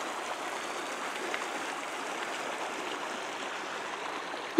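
Creek water swollen to river-like flow runs steadily along a trail, a constant soft hiss and burble at moderate distance with no voices, ending in a sudden close knock.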